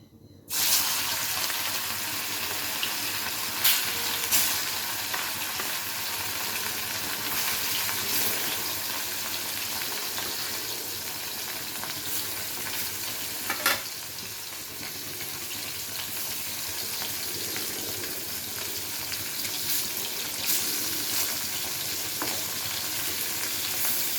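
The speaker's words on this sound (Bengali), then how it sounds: "তেলটা গরম হয়ে গেছে, এবারে মাছগুলোকে ভেজে নেব।" Snakehead fish frying in hot mustard oil in a wok, a steady dense sizzle and crackle running throughout with occasional sharper pops, close and continuous with no talking.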